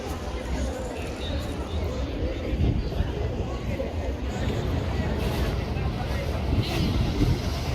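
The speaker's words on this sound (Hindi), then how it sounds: "कितनी हवा चल रही है" Strong wind blows outdoors in Madinah, buffeting the microphone with a constant low rumble, while a busy crowd murmurs nearby and voices talk throughout.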